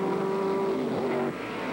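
Race cars at speed on the track at the 1964 Nassau Trophy, a loud steady engine roar with a held pitch that shifts and drops slightly as a car passes near.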